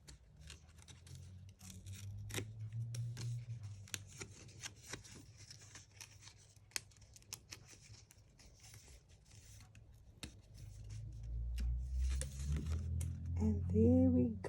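Scissors snip out a paper Cupid card made with a Cricut Maker. Close, repeated cuts and paper rustles go on for about fourteen seconds under a low hum, with a voice speaking briefly near the end.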